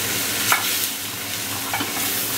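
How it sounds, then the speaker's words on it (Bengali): Spice paste for a Bengali-style tandoori chicken curry sizzles in oil in a pan and is stirred, with a steady frying hiss broken by a few sharp scraping strokes of the spoon. Nobody speaks. "আবার সুন্দর করে একটু কষবো মশলাটা"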